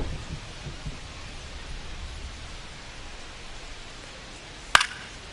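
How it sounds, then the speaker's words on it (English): Steady rain hissing down over a ballpark in the Bronx during a Cubs–Yankees game in MLB The Show 25, a constant soft wash with one sharp brief click near the end. "This rain is not letting up"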